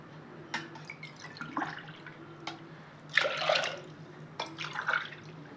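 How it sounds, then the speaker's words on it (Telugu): Water is poured into a pot of washed toor dal in a home kitchen: soft splashing bursts and drips come and go in short pours, fairly quiet and close, with no talking. "నీళ్ళు అయితే వేస్తున్నాను."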